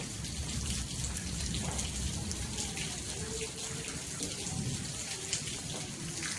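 Light rain falls in a soft, steady patter with scattered drips, fairly faint throughout.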